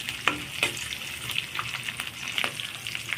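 Spices and curry leaves crackle and fry in a pan for dry roasted mutton, a steady sizzle with a few sharp spoon scrapes and light stirring knocks throughout.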